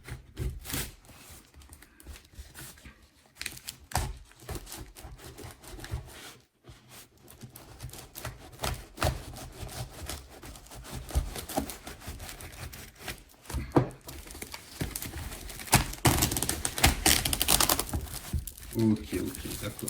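A parcel is opened and heavily applied packing tape is peeled and torn away, giving a near, continuous run of crinkling, rubbing and ripping that grows louder and harsher toward the end.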